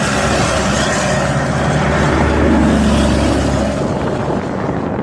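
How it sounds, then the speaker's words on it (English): Loud trucks pass on a highway near a pedestrian, a heavy rumbling roar that swells and holds, then fades slightly toward the end. "Loud trucks."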